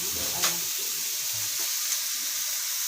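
Ground meat sautéing for pakbet, a steady hissing sizzle in a pan with a couple of faint utensil taps, heard close and alone.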